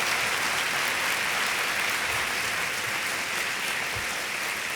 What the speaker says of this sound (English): Please join me in a big round of applause for Case.